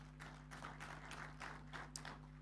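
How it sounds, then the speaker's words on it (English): Scattered applause for a furniture company at a conference, a faint patter of several rhythmic claps heard over a steady electrical hum, sounding distant and thin. "Let's give them a clap"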